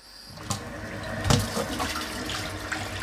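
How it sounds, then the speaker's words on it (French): Water rushing down a freshly unclogged kitchen sink drain after coarse salt was used, a brief gurgling flow with a few splashy bursts, close and loud. "il n'y a plus aucun problème d'écoulement dans notre évier de notre cuisine"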